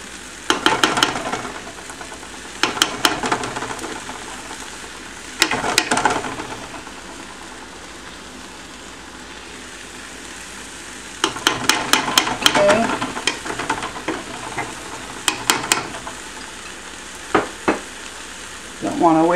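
Aji amarillo sauce stirred into a kaniwa, quinoa and amaranth pilaf in a pot, with bursts of scraping spoon strokes and soft sizzling in several separate spells, close and moderately loud, with quiet gaps between.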